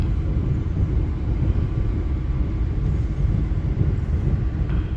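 KA Jaka Tingkir economy train pulling out of Gombong station, a dense steady rumble of rolling stock heard from inside the carriage, continuous and fairly loud.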